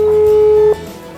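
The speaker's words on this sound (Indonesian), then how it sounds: "Saya langsung aja telepon Pak Arifin ya." A single steady telephone tone sounds loudly for about three quarters of a second, then cuts off to a quiet line, as a call is placed to a corn farmer in Lampung.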